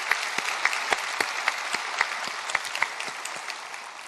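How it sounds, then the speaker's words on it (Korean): A church congregation applauds during a Sunday worship service, steady dense clapping with sharper individual claps standing out, moderately loud and continuous throughout with no talk. "우리 하나님께 영광의 감사의 박수 올려드리겠습니다"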